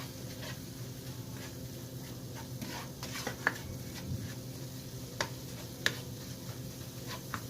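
Seasoning is stirred through ground meat cooking in a pan, with a steady soft sizzle under occasional light scrapes and taps of the utensil against the pan, all close and without talking.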